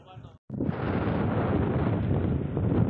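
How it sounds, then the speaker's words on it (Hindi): Strong cold mountain wind in Ladakh buffeting the microphone, a loud continuous roaring rush that begins after a brief pause and swells slightly toward the end. "इस हवा की आवाज़ सुन पा रहे हो"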